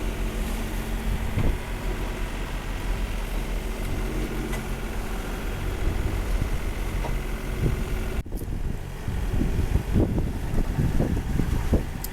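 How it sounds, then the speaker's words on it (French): Strong headwind roars steadily across the microphone aboard a boat at sea, with low rumbling and buffeting, sea noise beneath, briefly cutting out before gusting back in. "Alors là, on a le vent dans le nez complètement."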